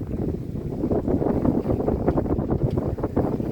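A sailboat under way to Yamba at about three knots, with broad wind and water rush buffeting the microphone steadily and loudly throughout, no voices.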